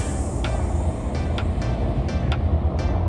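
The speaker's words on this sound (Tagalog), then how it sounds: "Ayun na yung airplano, guys, oh." An airplane passes overhead above a third-floor apartment balcony in Reno, Nevada, a steady broad rumble of moderate loudness lasting the whole span, broken by a few brief, sharp clicks, with no talking.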